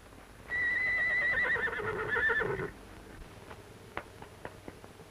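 A horse lets out one long, loud whinny lasting a couple of seconds, followed by a few faint clicks and knocks.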